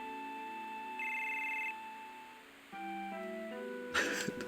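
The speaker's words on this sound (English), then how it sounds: "Here comes another great phone call." A telephone rings in Final Fantasy VII, a synthesized electronic ringtone of sustained tonal notes that shift in pitch, ending in a brief noisy burst, with no talk.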